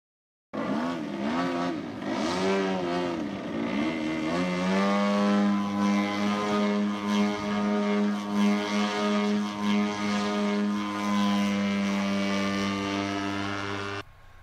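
An RC 3D aerobatic airplane flies a funnel hover, its propeller engine a loud, steady buzzing drone whose pitch sweeps and wavers before settling into a sustained whine.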